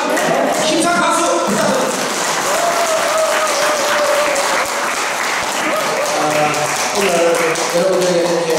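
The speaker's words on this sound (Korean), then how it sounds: "힘찬 박수" Loud, sustained applause from an audience in a district office auditorium after a special lecture by a former member of parliament, steady clapping filling the whole stretch with a voice speaking over it.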